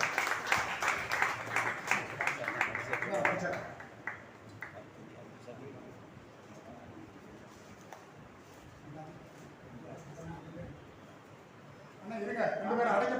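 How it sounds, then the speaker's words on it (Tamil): Audience at an inauguration ceremony claps in a dense burst for a few seconds, fades to a murmur of voices, then a second round of applause swells near the end. "அனைவரும் கர ஒலி எழுப்பி ஆரவாரம் செய்யுமாறு கேட்டுக்கொள்கிறோம்."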